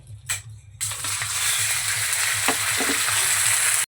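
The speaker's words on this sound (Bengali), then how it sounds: "তেল দিয়ে দিয়েছি, এবার আমি চিকেনটা দিয়ে দেবো।" Chicken pieces dropped into hot soybean oil in a pan for chowmein, a sudden loud burst of sizzling after a brief clatter that settles into a steady, close hiss with a few spatula scrapes and no talk.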